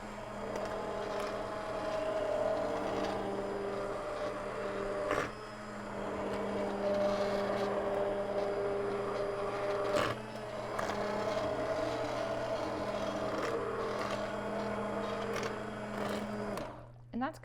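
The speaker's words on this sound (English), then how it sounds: "You just stop the blending and restart." An immersion blender purées soup in a pan with a steady, loud motor whir that runs nearly continuously, briefly pausing and restarting, up close in a kitchen.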